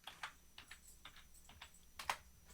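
Light tapping on a computer keyboard, a handful of quiet keystrokes in an uneven rhythm with a couple of quick paired taps, close and soft in a still room.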